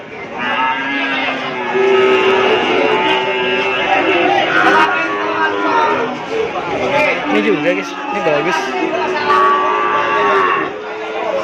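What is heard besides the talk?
Madura cattle at a livestock market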